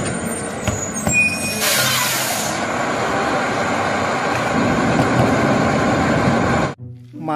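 A toy garbage truck gives a sharp hiss like an air brake, then a steady, rumbling engine drone runs for several seconds, close and fairly loud, before stopping abruptly.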